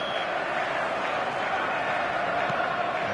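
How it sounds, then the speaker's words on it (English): A large football stadium crowd roars and chants in a steady, dense wall of noise, loud and continuous, with commentary-like talk blended in. "this place is living up to its reputation as one of the noisiest corners of the footballing world"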